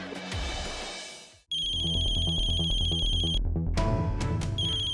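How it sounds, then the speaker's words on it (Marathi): A phone ringtone plays a bright, melodic electronic tune up close, cuts off briefly, then starts ringing again and keeps going. "आता अक्षय का फोन करतोय?"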